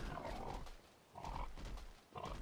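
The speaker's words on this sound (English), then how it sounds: "That's like a pig of some kind. Ah, that was a good call. It's a boar." A boar in Castlevania Lords of Shadow grunts in three loud, rough bursts, each lasting about half a second and separated by short pauses, with no talk over it.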